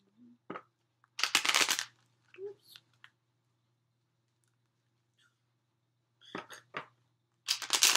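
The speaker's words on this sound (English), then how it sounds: "few more shuffles like this." Tarot cards being shuffled by hand in a few separate bursts of papery riffling and patting, close and fairly soft against a quiet room, with short pauses between the shuffles.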